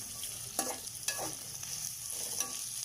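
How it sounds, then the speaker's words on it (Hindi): Onions fry in oil over high heat with a soft, continuous sizzle, broken by a few sharp clicks from a spoon stirring in the pan. "इसी ऑयल में अब हम प्याज फ्राई करेंगे।"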